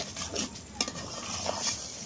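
Taro leaves and prawns stirred together in a pan, with a steady sizzle of frying under repeated scraping and a couple of sharper utensil clinks against the pan, close and alone.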